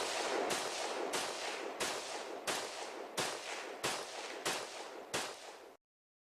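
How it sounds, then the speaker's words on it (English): A lawful semi-automatic rifle fires about nine sharp, evenly spaced shots in quick succession. Each report is loud and close with a short decaying tail, and no voices are heard. "this is how a completely lawful semi-auto rifle fires"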